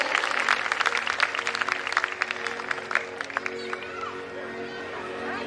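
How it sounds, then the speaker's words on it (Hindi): Applause from the audience at a Khatu Shyam bhajan evening welcomes a guest onto the stage. Close, dense clapping is strongest early and thins toward the end over steady musical hum, with a voice speaking over it. "एक बार प्लीज तालियों के साथ सभी स्वागत करें"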